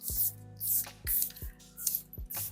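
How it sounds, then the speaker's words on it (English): Charlotte Tilbury setting spray misted close up in four or five short hissing bursts with brief pauses between them, loud and alone with no talking. "I'm gonna go in with my tried and true Charlotte Tilbury setting spray"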